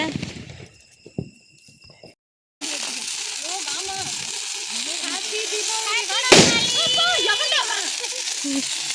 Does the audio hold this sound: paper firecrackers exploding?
yes